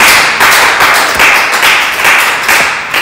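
A church congregation claps together in steady rhythmic beats while acclaiming the Lord, loud and full, with a dense wash of hands and voices throughout.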